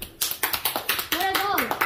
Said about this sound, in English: Clap, guys.